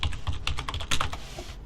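Rapid typing on a computer keyboard, a dense run of crisp close key clicks in an uneven rhythm with a heavier tap near the middle, no voices.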